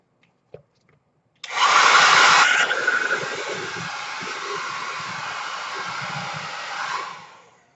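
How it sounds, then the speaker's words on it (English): A hair dryer switches on and blows with a steady, loud whooshing roar that holds for several seconds, then winds down at the end. "what I do, I like to speed things up with, is the hair dryer"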